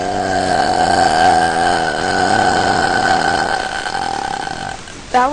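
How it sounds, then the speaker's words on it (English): A single long, loud human burp with a drawn-out rumbling, strained tone lasting several seconds, followed by a short, sharp second belch at the very end; no talking around it. "That was one of the longest burps I've ever done."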